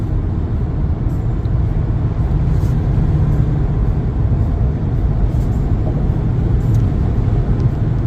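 An electric truck drives along a road, heard from inside as a steady, loud, even rumble of tyre and road noise with no engine note rising or falling.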